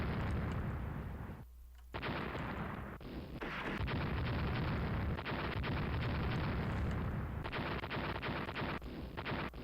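Naval bombardment in the warship strategy game Rule the Waves, loud booming explosions and gunfire blasts layered densely together, with a brief lull early on before the barrage resumes and continues.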